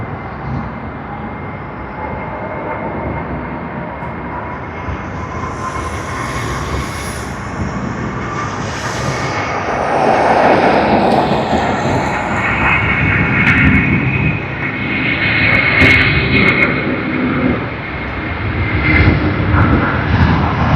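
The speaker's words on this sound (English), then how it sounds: "let's get this departure, Sydney to Perth service on the Airbus A330" Airbus A330 jet departing Sydney Airport on a Sydney to Perth service, a loud broad engine roar that swells mid-clip as the aircraft rolls and climbs, with steady rumble throughout and no talk.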